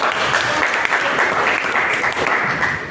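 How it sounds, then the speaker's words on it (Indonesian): A classroom group claps together in a sustained, dense round of applause that fills the room from start to finish, loud and steady without a break. "beri aplaus untuk"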